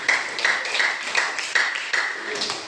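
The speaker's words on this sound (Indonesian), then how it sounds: "Ya, tepuk tangan untuk kelompok 3." A classroom group claps in a quick, uneven rhythm of sharp bursts, with voices talking over the applause.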